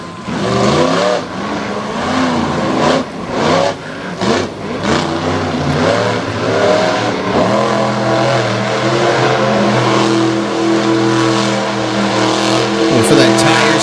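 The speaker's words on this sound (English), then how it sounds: "For that tire smoking donut over here in turn number 4" Monster truck spinning a tire-smoking donut in turn four at a Lake Erie monster truck show, its loud engine revving and roaring in surges with tire squeal, while an announcer talks over it.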